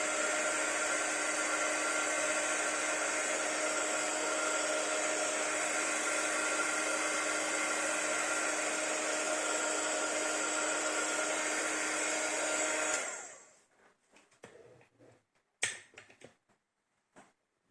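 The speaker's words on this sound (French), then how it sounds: "soit vous prenez votre petit pistolet à chauffer pour pouvoir faire sécher" A small handheld craft heat gun blows a steady, loud whooshing stream of hot air to dry a handmade star card, running continuously for about thirteen seconds before cutting off, followed by a few faint handling taps.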